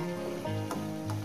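Sliced ridge gourd and potatoes sizzle steadily in a frying pan, a continuous soft crackle with faint stirring scrapes.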